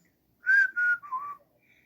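A person whistles a short three-note call, two level tones and then a lower one, close and clear against silence, imitating a whistle heard outdoors.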